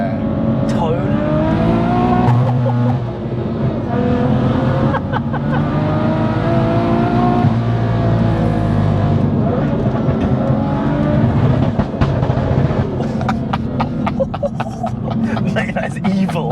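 A 650bhp big single turbo BMW M2 engine revs loudly and continuously, its high-pitched tone rising and falling over many seconds, with a person talking over it.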